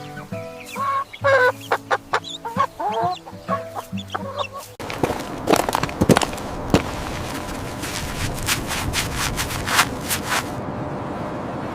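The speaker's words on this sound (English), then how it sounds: "This is a chicken." Farm chicken clucking in short repeated bursts, close and clear, followed by a denser stretch of rapid pecking-like clucks and scratchy noise that cuts off near the end.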